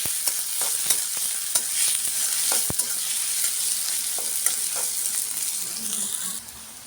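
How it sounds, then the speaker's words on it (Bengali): Dried chillies and onion fry in hot oil with a steady hissing sizzle, broken by occasional sharp crackles and stirring clicks, close by; the sound drops off near the end. "তেলের মধ্যে শুকনো মরিচ দিয়ে দিলাম পেঁয়াজ দিলাম"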